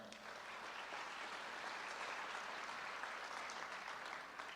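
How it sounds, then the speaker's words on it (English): Steady applause from a crowd at a high school athletic signing ceremony, sustained clapping that continues without a break, heard at some distance. "Please give them a round of applause."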